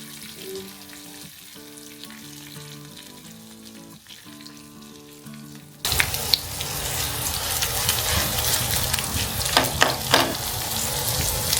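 Colocasia leaf rolls (alu vadi) frying in oil with sesame seeds and curry leaves, a quiet sizzle that jumps to a loud, dense crackle halfway through, with stirring clinks and no talk.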